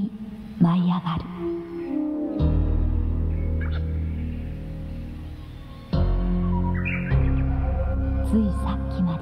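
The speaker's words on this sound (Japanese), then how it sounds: "鳥が飛び立ち、" Birds call and chirp sharply as they take off in a deep forest, several bursts scattered across the stretch, heard over a steady low hum and a voice narrating in Japanese.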